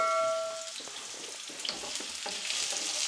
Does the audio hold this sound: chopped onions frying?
yes